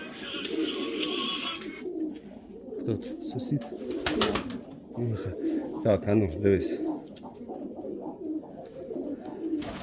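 Pigeons coo repeatedly close by, soft throaty calls rising and falling while someone talks over them.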